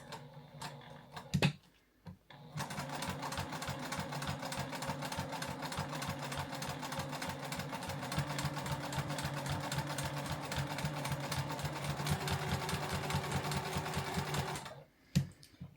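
A sewing machine stitches a curved seam while finishing a cross-stitch piece, running at a steady, even pace for about twelve seconds between a few soft clicks at the start and end.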